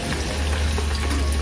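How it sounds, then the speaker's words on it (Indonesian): Bakwan teri, fritters of anchovy, cabbage, carrot and leek, fry in hot oil with a steady, dense sizzle. The sizzle is close and continuous under a low background hum. "kita goreng"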